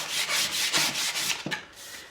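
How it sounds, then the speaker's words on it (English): Sandpaper rubs back and forth across a flat wooden surface in several quick, even strokes, close and dry, a rasping scratch with no talking. "Give it a good sanding."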